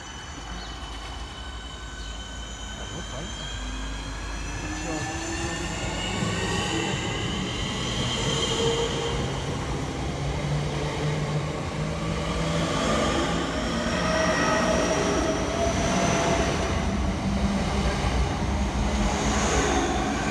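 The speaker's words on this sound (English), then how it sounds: "Departed next to the station is 465037 and 465046 with the 1749 Southeastern service from Hayes through to London Charing Cross" Southeastern Class 465 electric units 465037 and 465046 leave a station on the Hayes line, traction motors whining in rising tones over a steady rolling rumble that stays fairly close and loud.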